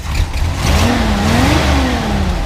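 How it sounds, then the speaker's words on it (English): A 1975 International Harvester engine revs up steadily from a low rumble, its pitch climbing and holding through a sustained close, loud burst of acceleration with no talking. "Go ahead and rev it up a little bit more."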